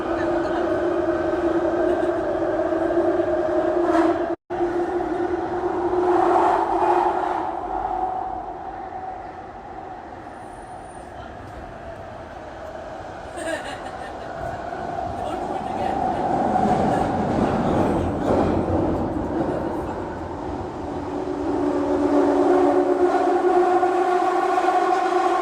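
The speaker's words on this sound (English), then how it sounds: "top of the subway as it's zooming along at whatever 50, 60 miles per hour" Loud, sustained subway train noise from on top of a moving train at around 50–60 mph, a steady roaring rumble with shrieking tonal whines that swell and fade over about 25 seconds, one sharp click early on, no talk.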